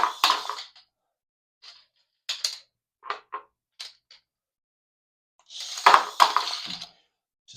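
A tiny 1/64 scale toy RC car tumbles in an attempted flip, giving short clattering, clicky bursts of plastic knocking with quiet gaps between, ending in a louder scrabbling clatter.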